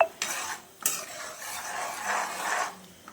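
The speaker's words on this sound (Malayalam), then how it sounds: "നമുക്കിനി വന്നിരുന്ന് ഇളക്കാം." A spoon stirs carrot and onion with a spoonful of ghee in a pan, a steady scraping and soft sizzle, close and continuous, with a couple of sharper knocks near the start.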